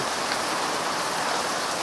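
Steady rain falls outside on a gray, rainy day, a continuous even hiss of drops with no breaks or distinct splashes, moderately loud and heard alone without any voices.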